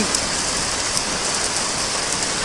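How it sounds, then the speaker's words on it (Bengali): Heavy downpour used as a sound effect in a rural Bengali ghost story, a loud, dense, unbroken roar of rain on surfaces with no voices. "মুসলধারে বৃষ্টি শুরু হয়ে"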